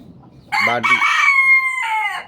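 A bantam rooster crows nearby with a loud, drawn-out cock-a-doodle-doo that follows a short cluck, heard clearly against a quiet background.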